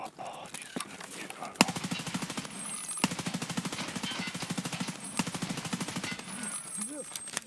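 Rapid automatic gunfire from the video game Escape From Tarkov comes as a fast, steady burst of shots lasting several seconds, with a few single shots before it. Someone speaks briefly underneath.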